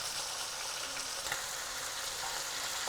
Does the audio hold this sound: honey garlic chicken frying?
yes